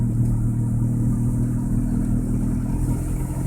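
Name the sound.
car exhaust with Magnaflow stainless muffler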